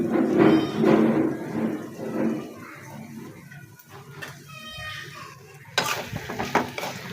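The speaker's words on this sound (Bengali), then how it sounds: "আলুগুলো এখন দিয়ে দিলাম।" Dried hilsa and potatoes go into a hot pan of reddened chilli and onion and are stirred, with scraping and clattering against the pan over a low sizzle and a sharper clatter near the end.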